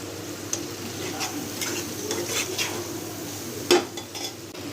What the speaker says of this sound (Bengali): এখন আমি সব মশলাগুলো দিয়ে কষায় নেব